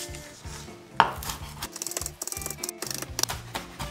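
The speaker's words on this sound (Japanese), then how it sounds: "まずはネギをみじん切りにします。" A knife finely chops green onion in quick, rhythmic, close-up taps on a board, with a sharper knock partway through and no talking.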